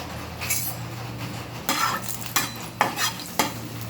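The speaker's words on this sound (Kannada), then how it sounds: "ಈಗ ಇದಕ್ಕೆ ನಾನು ಸಾಸಿವೆಯನ್ನು ಹಾಕ್ಕೊಳ್ತೇನೆ" Mustard seeds crackle and sizzle in hot coconut oil in a pan at the start of a kalthappa recipe. A steady hiss sits under several close spatula scrapes and light metallic clinks, with no voices.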